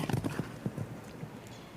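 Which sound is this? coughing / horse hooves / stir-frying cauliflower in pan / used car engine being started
horse hooves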